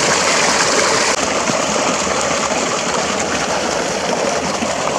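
Water gushing steadily from a drilled spring well outflow pipe in Roxas, Isabela, flowing at over a liter per second, a loud, continuous close-up rush with no talk.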